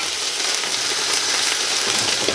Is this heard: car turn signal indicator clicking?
no